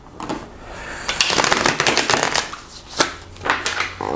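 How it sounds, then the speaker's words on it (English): A deck of tarot cards is shuffled by hand close up, bursts of crisp riffling and flapping card rattles with short pauses between, alone without talk. "I've already shuffled the cards, pre-shuffled, but I like to give them another go just to make sure"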